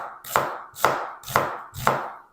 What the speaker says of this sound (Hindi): ये देखिए इस तरह आपने प्याज को कट करना है, बिल्कुल बारीक स्लाइस बनाने आपने